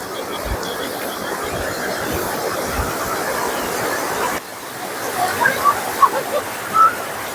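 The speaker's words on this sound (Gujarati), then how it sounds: "હાલે તો ભાઈ જો પાણી જાય છે" Floodwater after a heavy downpour rushes through a field with a broad, steady roar, close by, which drops abruptly partway through while people talk over the quieter flow.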